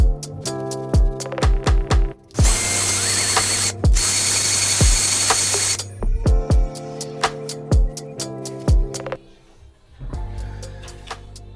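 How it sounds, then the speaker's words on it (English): Shower pipes being cut down to length in a bathroom renovation with a power tool: a loud, rapid ratcheting, clicking tool sound in short repeated bursts, broken by two longer stretches of harsh, grinding cutting noise. "So I'm going to cut these pipes down."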